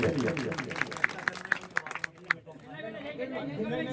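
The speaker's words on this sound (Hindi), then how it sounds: "जोरदार तालियां बजा भैया इसके लिए" A crowd at a bhajan singing contest claps for a child during prize giving, with scattered claps under crowd chatter that trail off into murmuring voices.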